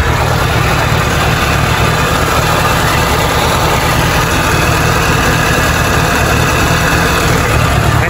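A car engine idles after being restarted, a constant loud rumbling drone with no change in pace throughout, recorded close to the running motor and belt.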